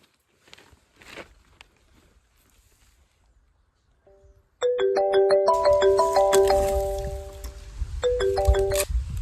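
A mobile phone ringtone plays a bright, loud melodic pattern that starts suddenly midway and repeats after a short gap, following quiet footsteps and faint rustling.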